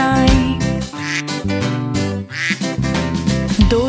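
A singing voice imitates a duck with repeated quack-quack calls over a bouncy children's tune with steady musical backing.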